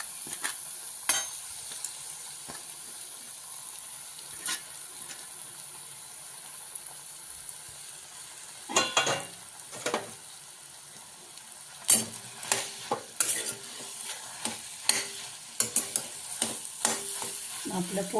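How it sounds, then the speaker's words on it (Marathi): Grated potato mixture for aloo paratha stir-fried in a pan, a soft continuous sizzle punctuated by irregular scraping and clattering strokes of the spatula, busier toward the end. "सर्व मिश्रण चांगलं परतून घेऊया आपण"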